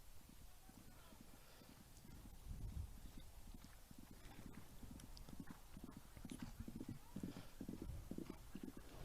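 Polo pony trotting on grass at a Guards Polo Club championship match, a steady, fairly distant run of soft hoof beats under low ambient noise.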